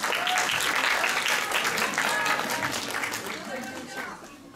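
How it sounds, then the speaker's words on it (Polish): An audience claps warmly for a monologue performer at a theatre day event, a dense burst of applause fading over a few seconds, with voices audible underneath. "Prosimy o gorące brawa dla niej."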